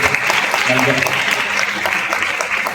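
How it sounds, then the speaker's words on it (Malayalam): Crowd applause at a celebration honoring two singers, a dense steady clapping throughout, fairly loud and close with voices mixed in. "ഒരു വലിയ കയ്യടി അവർക്ക് രണ്ടുപേർക്കും"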